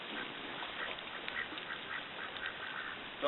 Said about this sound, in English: She's my tufted goose.